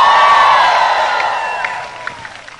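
A large El Shaddai church congregation shouts and cheers loudly, a sustained roar of many voices that slowly fades over a couple of seconds, with a few scattered claps near the end.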